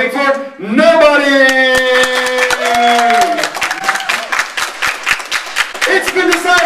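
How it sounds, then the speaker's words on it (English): Comedy club audience at a stand-up show breaking into applause and scattered claps, sharp hand-claps in a quick uneven rhythm under loud cheering and shouting voices. "Round of applause, who's voting for nobody?"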